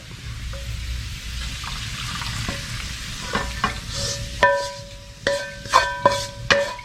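Steady sizzle of garlic frying in hot oil in a pan, with metal utensil clinks and scrapes growing sharper and more frequent toward the end.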